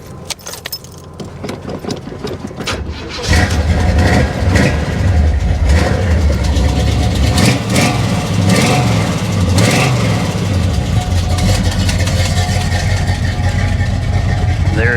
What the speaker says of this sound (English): Now we'll go ahead and fire it up real quick so you guys can hear it run.